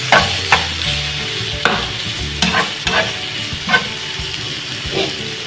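Eggs cooking in a frying pan for a salmon and spinach quiche, a steady close sizzle with scraping and stirring clicks from a utensil against the pan, no voices.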